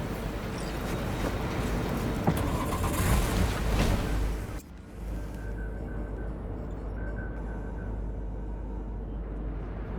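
A car drives in Cyberpunk 2077, its engine rumbling steadily and loud for a few seconds before cutting abruptly to a quieter, muffled drone for the rest.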